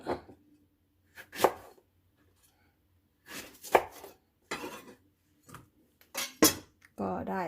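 A knife chops eggplant and chilies on a cutting board in short bursts of quick strokes, close and crisp, separated by pauses.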